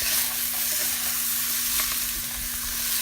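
Butternut squash and carrot being stirred in a hot frying pan with mustard seed and lemongrass, giving a dense, steady hiss of sizzling with faint scraping movements, close up and without talk.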